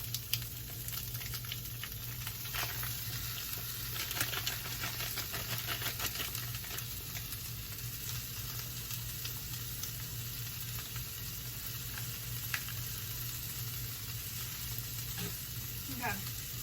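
Cauliflower and ground pork fry in a pan with a steady low crackling sizzle and scattered pops and scrapes, continuous and fairly quiet throughout.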